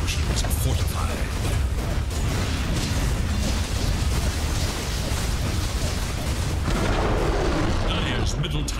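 Dota 2 combat as a middle tower is attacked and destroyed: dense, continuous booming impacts and bursts of clashing noise, loud and unbroken throughout.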